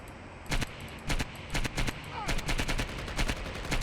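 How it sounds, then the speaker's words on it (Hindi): Gunfire in the video game Project IGI, with rapid rounds of shots cracking out in a rhythmic series of bursts over a constant background hum. "हम पे फायरिंग कर रहा था"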